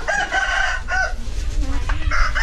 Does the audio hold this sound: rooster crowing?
yes